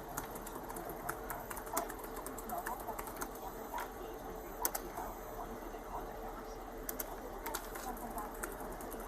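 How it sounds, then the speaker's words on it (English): Quiet, irregular keyboard tapping over a steady background hum, with faint bird cooing somewhere in the distance. "you're typing."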